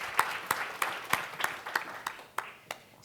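Audience applause welcoming panelists at a lifelong-learning panel discussion, a steady patter of many hands with sharper individual claps standing out, moderately loud and sustained throughout.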